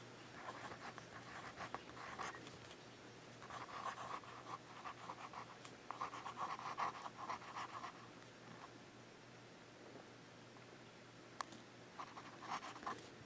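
A fine-nib Jinhao 990 fountain pen writes on paper in soft, close scratchy strokes that come in short bursts and pauses at low volume.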